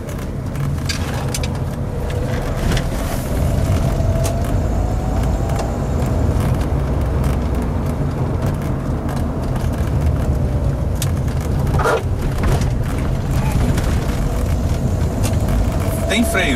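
A car with a VW EA827 (AP) engine cruising at about 60 km/h and 1500 RPM, a steady low engine drone with road and tyre rumble filling the interior, with someone talking over it.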